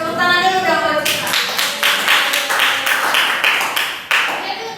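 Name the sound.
applause for a student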